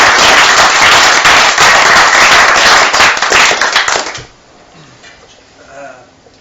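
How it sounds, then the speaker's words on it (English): Loud, dense audience clapping at a public talk fills the first four seconds, then abruptly fades to a quiet room. "give him a good clap, please."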